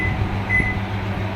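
A Samsung 21L CE73JD-B1 microwave oven running after its door is closed and it is started. There is a steady low hum and drone with a faint high whine and a soft click partway through, close and continuous.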